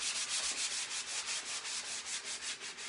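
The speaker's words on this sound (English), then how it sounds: "so we'll sand this down just a tiny bit here" Sandpaper lightly rubs a waxed wooden surface with partly white paint, making a steady, close, rhythmic scratchy hiss in repeated quick strokes, with no voices.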